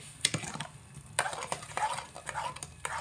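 A spoon scrapes and stirs raw mango jelly cooking with sugar in a pan over low to medium heat, faint irregular clinks and scrapes against the pan over a low background rumble.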